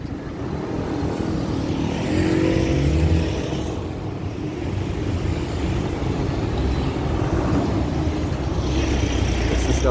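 Steady car traffic rolls along a city street in the Boa Viagem neighbourhood of Recife, a continuous low engine and tyre rumble with a louder vehicle passing by near the middle, no voices.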